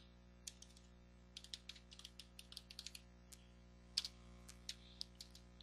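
Quiet clacking of keys as someone types on a computer keyboard, short uneven bursts of close, crisp taps separated by brief pauses, with no voices.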